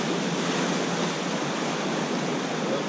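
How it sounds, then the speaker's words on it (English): Outdoor water rushing steadily into a bucket, a loud, continuous broadband gush filling the whole span without pause or voices. "get some water in this bucket here"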